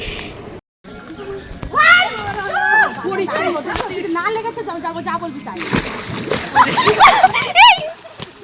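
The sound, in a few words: splashing from jumping into a pond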